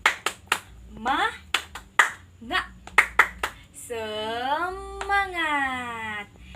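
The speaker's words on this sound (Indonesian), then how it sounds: "ayo kita tepuk semangat" Schoolchildren in a combined grade 4 and 5 classroom beat out a rhythmic 'tepuk semangat' clap: a run of sharp, close hand claps in an uneven pattern, followed by the children's voices shouting together.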